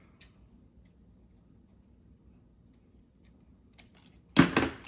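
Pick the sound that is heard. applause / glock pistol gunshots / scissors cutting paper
scissors cutting paper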